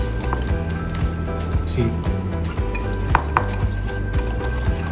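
Mayonnaise, ketchup and herb sauce mixed in a bowl, with repeated clinks and scrapes of a utensil against the bowl, close by under a person's brief talk.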